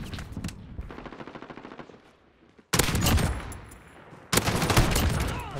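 Rapid automatic gunfire in Call of Duty: Modern Warfare, a fast rattling burst followed by two louder, dense sustained volleys, close and forceful.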